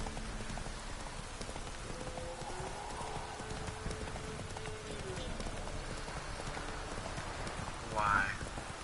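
Roach, a horse in The Witcher 3, clip-clops along in a steady hoof rhythm over rain pattering on the ground, with a brief louder burst near the end.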